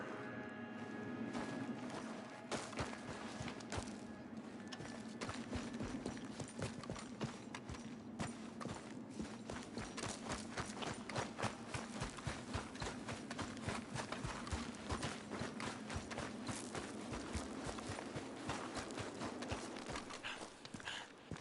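Horse hooves clip-clopping at a steady, quick trot in Red Dead Redemption 2 on PS4, an even stream of close, fairly faint hoofbeats running continuously without speech.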